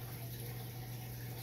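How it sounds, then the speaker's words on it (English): Hot water poured slowly into a container while growing greens indoors, a steady low broadband rush with a constant hum beneath, continuous and fairly quiet throughout with no talk. "So you slowly pour it in there so you don't make a huge burning mess."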